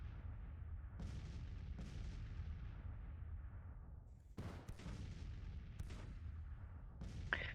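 Williams guns fire across a Civil War battlefield in Grand Tactician: The Civil War, a series of distant, muffled artillery booms, some spaced apart and others in quick pairs, each trailing off in a rumbling decay.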